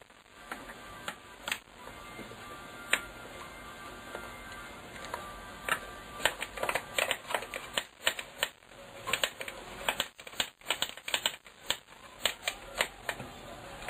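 Bolts being started and fastened by hand on a car intake manifold resting on the cylinder head, heard as close, irregular metallic ticks and clicks that grow denser and louder toward the end.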